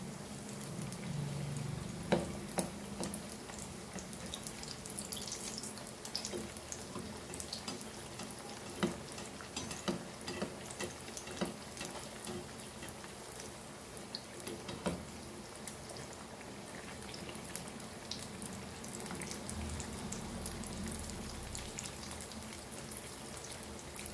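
Prawn samosas deep-frying until golden brown, a steady close bubbling sizzle of hot oil with small pops and crackles throughout, no voices.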